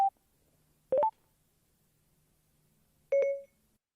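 Short electronic tones sound in a quiet setting: a brief blip, then a quick rising two-note chime, then a longer tone, the activation sounds of a smartphone voice assistant, loud and clean.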